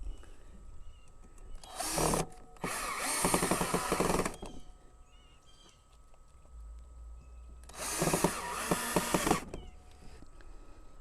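Power drill driving wood screws into the plastic body of a KidZone remote-control ride-on SUV, with three loud whirring bursts of a few seconds each separated by quieter pauses.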